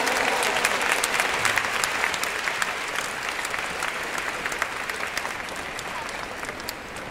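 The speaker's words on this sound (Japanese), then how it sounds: "もう一度大きな拍手をお送りください。" Applause from a large concert audience after a combined wind band performance at a 3000-player brass band finale event, steady dense clapping throughout with crowd noise, loud and sustained.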